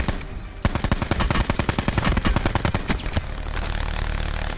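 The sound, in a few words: sentry gun firing in Call of Duty Blackout video game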